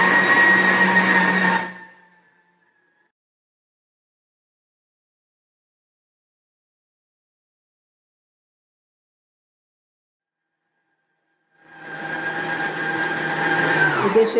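A stand mixer with a dough hook kneading cassava bread dough, a loud whirring motor hum that cuts out into a long silence before starting up again at the end.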